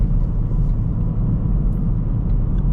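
Engine of a Hyundai i30N Facelift with a 4-cylinder motor while driving, heard from inside the car as a loud, steady low rumble and road drone with no talk.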